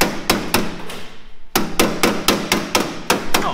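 A hammer strikes a flat iron in a workshop, giving sharp, loud metallic blows in a quick, irregular rhythm with a short pause midway.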